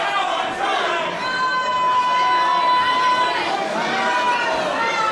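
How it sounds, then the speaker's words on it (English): A jam-packed crowd at a wrestling show in Festsaal Kreuzberg, Berlin, keeps up a steady roar of chatter and cheering, with a sustained whistle-like tone riding over the din throughout. "Another jam-packed crowd here in Festsaal, Kreuzberg, as it always is"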